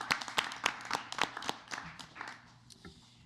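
A handful of people at a school district board of education meeting clap for district honorees, sparse distinct claps that thin out and fade within a few seconds, fairly quiet and near.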